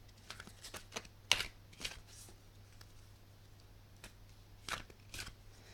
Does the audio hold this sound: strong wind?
no